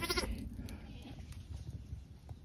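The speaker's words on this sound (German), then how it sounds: "Also der Herr hat noch mehr Tiere, auch kleine Schafe." A sheep gives a short bleat at the start, close and clear, followed by quiet outdoor rustling and faint background noise, in Iran.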